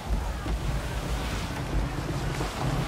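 Rushing wind and sea noise while sailing a ship in the Assassin's Creed 3 video game, a continuous low roar with wave wash, steady and fairly loud.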